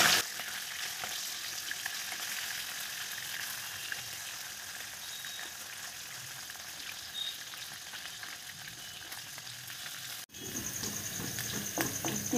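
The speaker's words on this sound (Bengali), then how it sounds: "এভাবে একে একে সব মাছগুলোকে ভেজে তুলে নিচ্ছি।" Bele fish frying in a pan over high flame, a steady close sizzle of hot oil crackling throughout with a brief interruption near the end before the sizzling resumes.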